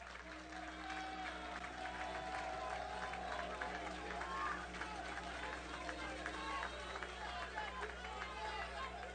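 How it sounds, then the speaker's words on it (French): An assembly at a Flag Day ceremony in Arcahaie, Haiti, gives warm applause to its members as they stand, a dense and steady clapping that carries on throughout with a busy crowd murmur and some voices underneath. "l'assistance va vous signifier sa satisfaction par de chauds applaudissements"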